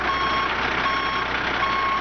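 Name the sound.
truck engine running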